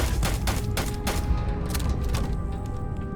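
Rapid gunfire bursts from a firefight in the video game Starfield, several sharp volleys in quick succession over a dense, constant bed of game noise.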